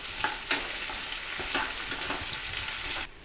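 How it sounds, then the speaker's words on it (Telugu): Onion, green chilli, ginger and curry leaves fry in hot oil for rice rava upma, a steady close sizzle broken by a few sharp spatters and stirring scrapes, cutting off abruptly near the end. "3 రెమ్మల కరివేపాకు వేసుకుని దోరగా ఫ్రై చేసుకోవాలి."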